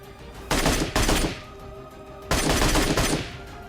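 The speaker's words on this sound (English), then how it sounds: "The MK12 can be used just like the Mini 14 or the SKS to put a lot of shots downrange" Rapid fire from an MK12 sniper rifle in PUBG Mobile, two loud, close bursts of quick shots separated by a short quiet gap.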